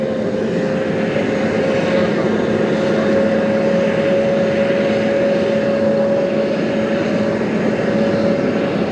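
An airliner at JFK airport hums steadily in the distance with a constant engine drone and a sustained tonal whine, a loud, even wash of sound throughout with no talk.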